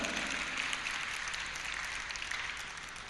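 Audience applause during a sermon at a Jain religious gathering, a steady, dense wash of many hands clapping at moderate distance, fairly soft and even throughout with no voices over it.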